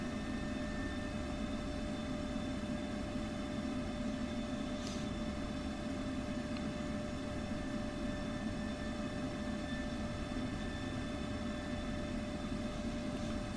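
An F-16C jet taxis in the DCS flight simulator game, producing a steady, fairly faint, continuous engine whine and rumble with no talk.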